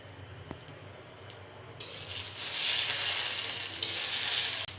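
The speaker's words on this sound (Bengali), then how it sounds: "জিরেটা হালকা মতো ভাজি করতে হবে তেলে দিয়ে" Cumin seeds dropped into hot oil for tempering start a sizzle that swells after the first couple of seconds into a steady, bright crackling hiss, close by, with a low kitchen hum underneath and no talking.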